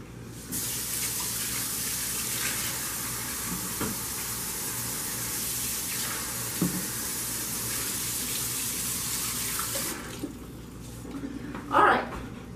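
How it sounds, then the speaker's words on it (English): A kitchen tap runs in a steady, close rush of water for most of the stretch as hands are washed at the sink, then shuts off near the end, followed by a brief clunk. "So I just have to wash my hands real quick."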